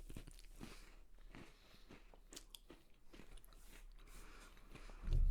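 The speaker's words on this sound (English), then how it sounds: "A big crunch." Pumpkin spice Goldfish graham crackers crunched in the mouth, a close series of sharp bites and chewing crackles over several seconds, ending with a louder bump.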